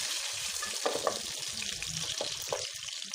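Chicken sautéing in a pan for a black pepper chicken dish, a steady close sizzle with scattered scraping stir strokes throughout, with no talk.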